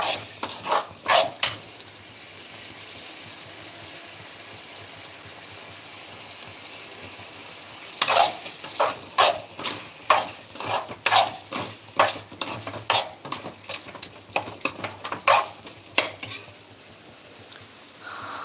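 Mutton gravy cooking in an iron kadai rather than a clay pot, stirred briskly with a ladle: loud repeated scraping and clanking strokes in bursts over a soft continuous sizzle, close by.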